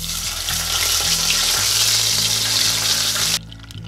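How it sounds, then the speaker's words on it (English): Sunfish fry in hot oil in a pan at a camp cook, giving a loud, dense, continuous crackling sizzle that drops somewhat near the end, with no talking. "so I'm going to go ahead and throw one of these sunfish in there now"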